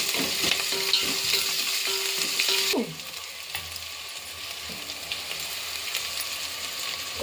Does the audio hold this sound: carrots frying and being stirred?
yes